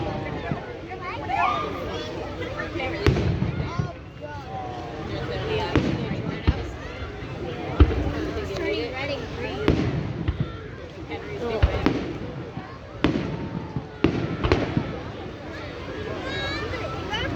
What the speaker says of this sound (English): every time it's 4th of July and we're seeing fireworks